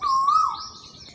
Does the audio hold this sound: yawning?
no